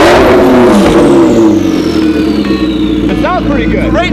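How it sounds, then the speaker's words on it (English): A car with a straight-pipe exhaust revs loudly and close up, the engine roaring and falling back across several rising and dropping pulls, while people talk over it. "Last time they'll hear this exhaust."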